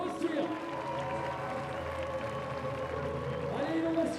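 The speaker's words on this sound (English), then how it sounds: "Applaudissements pour Johanna Ernst, Austria" A crowd applauds and cheers for climber Johanna Ernst at a lead climbing World Cup women's final in Briançon, a continuous wash of clapping and crowd noise under a loud announcer's voice.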